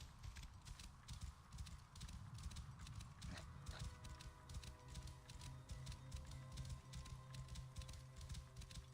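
A horse galloping in the game Assassin's Creed Origins, with rapid rhythmic hoofbeats pounding steadily and close throughout, alone without talk.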